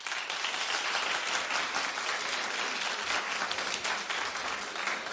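A studio audience at a television talk show claps loudly and steadily, a dense, continuous wash of applause that holds at full strength for the whole stretch, with no voices over it.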